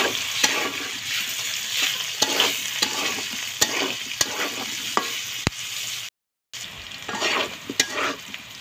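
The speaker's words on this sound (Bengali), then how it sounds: "এখন এই তেলটি ফুলকপিগুলো ভেজে নেব।" Cauliflower florets fry in moderately hot oil with a steady, close sizzle, broken by periodic stirring clinks and a brief silent gap.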